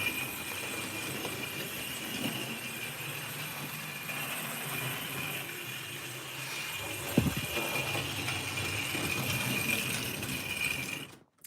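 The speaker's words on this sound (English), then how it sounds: "We're just running some trains." Model trains run on a layout with a steady mechanical rolling hum and faint clicking of wheels on track, one brief clack partway through, continuous and close.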